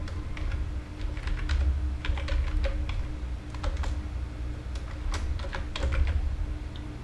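Steady typing on a computer keyboard while entering text into a WordPress editor, with quick irregular bursts of key clicks over a low constant hum, close and fairly loud throughout.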